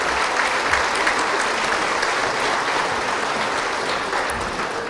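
A dinner audience at an academic awards event applauds a harpist, with steady, dense clapping from many hands that carries on evenly for the full five seconds without any voices.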